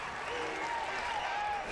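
A home crowd at a softball international cup game in Oklahoma City roars and applauds after a three-run home run, a steady, dense wall of cheering throughout with a faint whistle-like tone rising above it.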